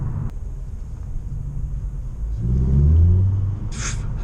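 A Vauxhall Corsa fitted with a Cobra Sport exhaust idles with a deep rumble, then rises in one short rev before settling, heard loud and close.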